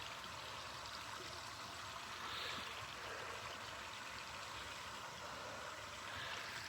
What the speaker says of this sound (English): That's like a warm tap running.